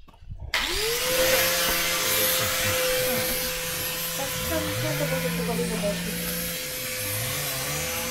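A saw runs steadily at an outdoor work camp, a loud continuous droning whine that rises and dips in pitch as the load changes. Voices talk faintly under it.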